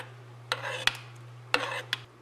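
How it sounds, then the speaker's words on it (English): Spices being stirred into chili in a crockpot, two short bursts of scraping and rubbing from a spoon against the pot, close and fairly quiet over a steady low hum, with no talking. "Stir in the spices."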